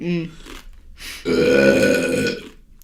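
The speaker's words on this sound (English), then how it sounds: "Another solid burp there." A long, loud, deep burp rumbles for over a second, preceded by a short vocal sound and some breathy noise.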